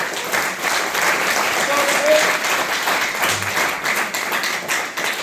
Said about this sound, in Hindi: एक जोरदार हाथ ताली चाहिए हमारा मैनेजमेंट के लिए